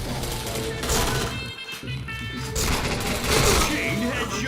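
Dense, continuous rapid gunfire from a video game shooter, with layered bursts and impacts running throughout while a game announcer voice repeatedly calls out over the din.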